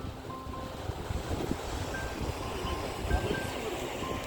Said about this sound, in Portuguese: Você não sentiu o vento?